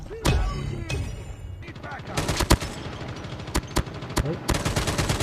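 Machine gun fire from a mobile video game comes through the OPPO A94 phone's speaker as loud, sharp bursts and separate shots with thuds between them, and a voice can be heard faintly behind the game sound.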